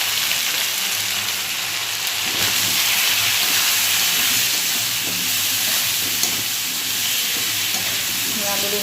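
Potato and eggplant pieces fry in hot oil in a pan, giving a loud, continuous hissing sizzle with scraping and stirring sounds running through it, close and steady throughout.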